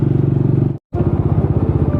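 A Yamaha FZ motorcycle's engine drones with a steady low pulsing putter, cut by a brief dropout near the middle before the same rumble resumes, loud and close throughout.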